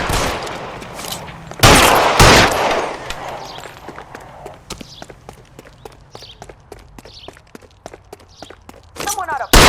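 Gunfire in L.A. Noire: a few loud, sharp shots ring out early on, then rapid footsteps patter, with a voice cutting in near the end.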